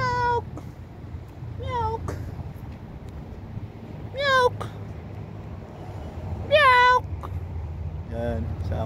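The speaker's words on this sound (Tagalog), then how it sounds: "Dami pusa dito." Cats in Riyadh meow repeatedly, four or five clear, rising-and-falling calls spaced a couple of seconds apart and close by, over a low background rumble with a voice nearby.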